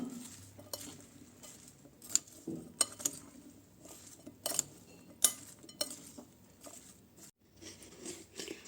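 Pakoda batter mixed with salt and crushed ajwain in a bowl, heard as quiet scraping and stirring with scattered sharp clinks of a spoon against the bowl, close and irregular, with no talk.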